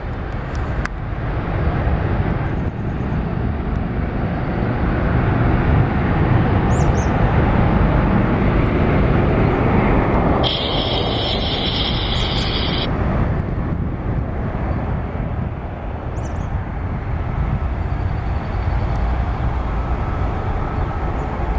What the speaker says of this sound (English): There goes the Alaska 737-900 to Anchorage.